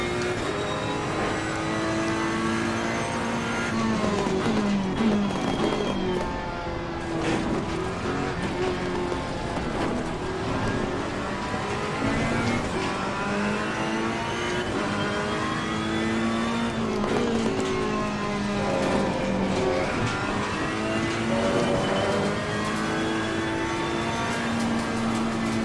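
Race cars lapping Zandvoort in Assetto Corsa Competizione, a steady engine drone rising and falling with gear changes, other cars close by, continuous and moderately loud.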